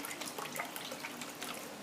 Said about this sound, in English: this is some beef stock, and this is what I'm going to do. If you can use regular water, but I like using beef stock. Pour it on in there.